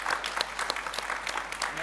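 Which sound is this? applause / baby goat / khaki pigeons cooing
applause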